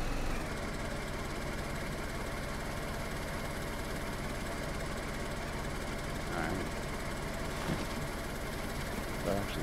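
A vehicle engine idles in the video game DayZ, a steady, dense mechanical drone that runs unbroken for the whole stretch, with a few faint knocks and rattles rising briefly above it.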